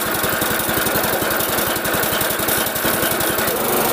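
A grass chopper machine's small engine runs loud and steady, its rapid thumping pulses repeating without a break from start to finish.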